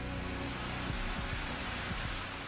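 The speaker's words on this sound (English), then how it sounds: "A shot of triethylborane gas ignites the fuel, and the J-58 engines are started." Loud, steady roar of J-58 jet engines starting up on an aircraft, fuel lit by a shot of triethylborane, a dense continuous rumble with low throbbing pulses running throughout and no voices.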